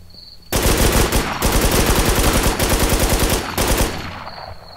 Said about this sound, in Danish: Det var også mange skud.